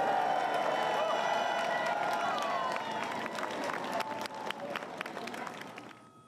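Crowds lining a closed London street along the route of a state funeral hearse cheer, whoop and clap in a broad, continuous wash of noise that gradually fades toward the end.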